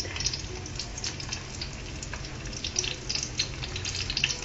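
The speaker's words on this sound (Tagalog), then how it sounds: "Habang binabaliktad ng cook ang kabilang side ng luncheon meat" Slices of luncheon meat sizzle and crackle steadily in a hot frying pan as they are flipped, a continuous close hiss with small pops and no talking.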